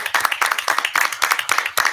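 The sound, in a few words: audience applause at a school board meeting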